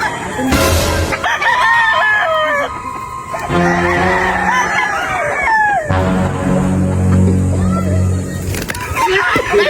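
A rooster crows loudly and close in several long drawn-out calls, with chicken clucks and squawks in between. People talk over the birds.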